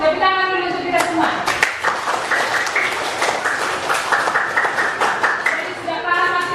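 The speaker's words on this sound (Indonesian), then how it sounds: "Tepuk tangan dulu untuk kita semua." Classroom clapping as a teacher invites students to applaud everyone after a discussion, a group clapping steadily and briskly throughout, with voices mixed in and speech at the start and end.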